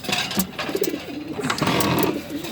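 Racing pigeons cooing in a loft, soft repeated low coos in short bursts, close and fairly quiet, with no talk.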